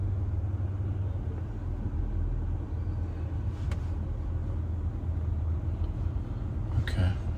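Ford Everest idling and creeping slowly while park assist steers it into a parking spot, a steady low engine rumble close by with faint clicks near the end.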